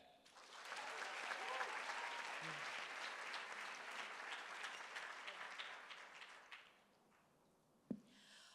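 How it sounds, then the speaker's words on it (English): A large audience at the 2024 HOSA Washington Leadership Academy opening session applauds Ms. Cindy Beck, sustained dense clapping that swells, holds for several seconds, then fades out, followed by a single sharp knock. "Please give a round of applause for Ms. Cindy Beck."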